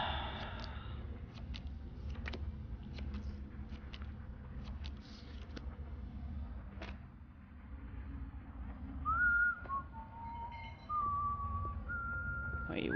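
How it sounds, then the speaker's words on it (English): A man whistles a few short rising and falling notes near the end, close and clear over a quiet room tone at a poker table in Far Cry 3. "What are you whistling for?"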